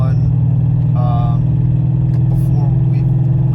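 A Ford Coyote engine in a car with a stage 3 clutch drones steadily and loudly from inside the cabin, a constant deep hum while someone talks over it.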